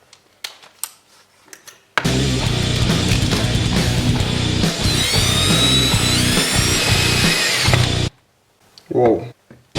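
A power drill runs steadily for about six seconds, bored into a metric part, loud and close, with short handling noises before and after and a voice talking at the end.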